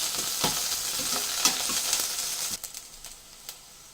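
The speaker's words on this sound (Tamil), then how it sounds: "இதில் கொஞ்சம் கருவேப்பிலை, நான் கட் பண்ணி வச்சுருக்க பூண்டு இதை சேர்த்து நல்லா வதக்கிக்கலாம்." Urad dal, curry leaves and garlic are sautéed in a pan, with a busy sizzle and frequent scraping stirs close up. The frying softens partway through, and a few separate stirring knocks follow. No one speaks.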